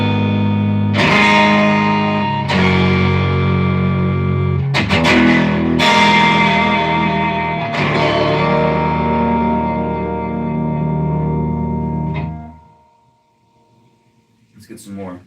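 An electric guitar played through a valve amp with low reverb rings out in loud, sustained distorted chords, each strum decaying into a long tail before a final fade to near silence.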